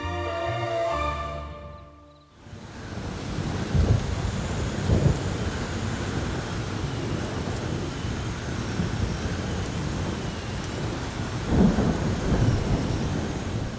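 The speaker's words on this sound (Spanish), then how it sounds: "Estamos aquí protegidos de la lluvia en el patio del Lindaraja" Heavy rain pours steadily over the Patio de Lindaraja in the Alhambra, Granada, with low thunder rumbling through it. A brief passage of music opens before the downpour takes over.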